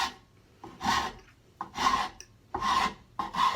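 Strokes of an Auriou modeler rasp filing wood, four rhythmic rasping passes, each about half a second, close and clear with short pauses between.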